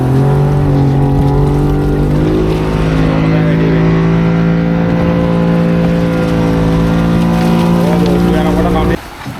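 A loud, close boat engine drones at sea off South Korea, its steady harmonic hum rising slightly in pitch before cutting off abruptly near the end.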